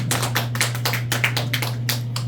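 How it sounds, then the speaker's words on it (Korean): A church congregation claps at a 60th anniversary thanksgiving service, with a run of distinct, fairly close handclaps in an uneven rhythm over a steady low electrical hum. "박수 한번 쳐주시길 바랍니다."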